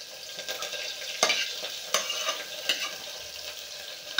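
Onions stirred and frying in hot oil in a home kitchen while cooking an Eid meal, a steady sizzle broken by a few sharp scraping stir strokes, close and moderately loud.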